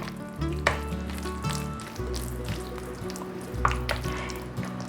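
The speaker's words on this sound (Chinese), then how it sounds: "把它搅拌均匀" Lotus root starch stirred into a potato and carrot mash, a soft steady scraping and mixing texture over a continuous background hum, close and moderately loud, with no talking.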